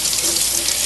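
Water runs steadily from a tap into a sink as hands are rinsed, a loud continuous close-up splashing hiss throughout.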